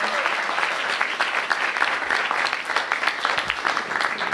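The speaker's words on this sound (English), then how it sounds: "Give her a big round of applause." A crowd applauds at the Homeward DC Act of 2016 bill signing ceremony, with dense, sustained clapping throughout at an even, fairly loud level.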